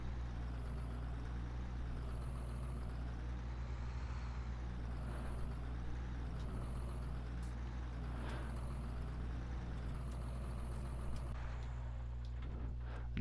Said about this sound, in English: So this old 4755's got a nice little sound to it.